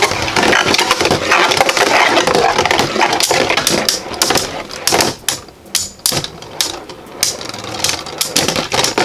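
Beyblade Burst Rise tops spin and clash in a stadium during a tournament match, giving a dense rattling, grinding scrape with sharp clacking hits that thin out into scattered knocks near the end.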